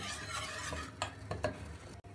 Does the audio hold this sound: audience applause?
no